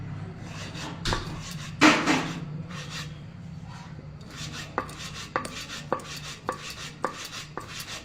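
Knife chopping ingredients for payesh on a cutting board, a series of sharp, distinct taps with a louder strike near the start and steady irregular cuts following, close and alone with no talk.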